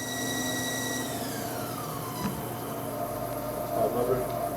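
Haas TL-1 CNC toolroom lathe with its spindle running at around 1200 RPM, a steady machine whine that sweeps down in pitch as the speed changes, heard nearby with a low hum underneath.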